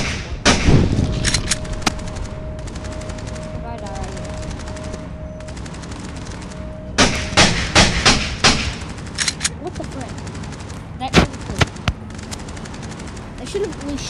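Gunfire in a mobile shooter game: a rapid automatic burst, then scattered single shots and short volleys, loud and close with quiet stretches between.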